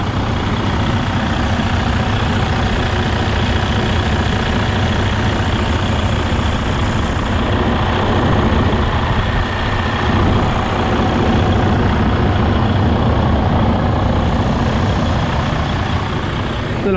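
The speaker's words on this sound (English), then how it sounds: "I'll just climb out now and let you listen to the motor" Freightliner Coronado highway tractor diesel engine idling with a loud, steady, low rumble close by, unbroken and without talk throughout.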